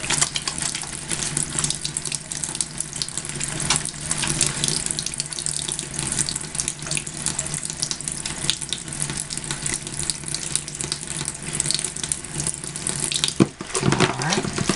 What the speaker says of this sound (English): As you can see, again, lots of bubbles already.